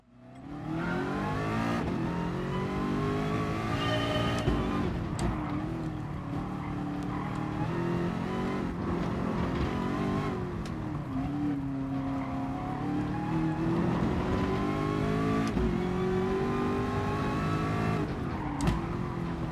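Ford GT LM race car in GT Sport lapping a northern loop circuit, a loud sustained engine howl climbing through gears with repeated shift dips and brief drops under braking, no talking.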